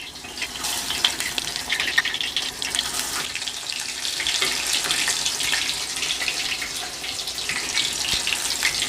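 A very thin piece of snapper sizzles in a hot pan for a Bahamian fried fish dish, giving a continuous hissing, crackling spatter that stays loud and steady throughout.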